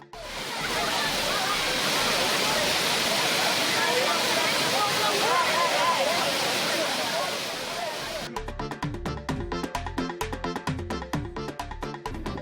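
A roaring waterfall where tourists are bathing gives a steady, loud, dense rush of water for about eight seconds, then fades into a rhythmic, clicking, percussive pattern.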